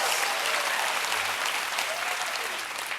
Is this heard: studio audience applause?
yes